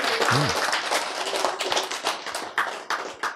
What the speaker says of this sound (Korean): 더 크게 박수